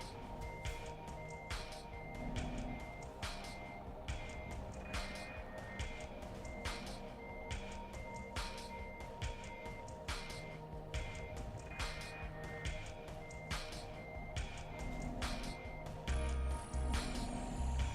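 A truck backing up with a trailer in Euro Truck Simulator 2, its reversing alarm beeping at an even, regular pace over a low, steady engine idle throughout.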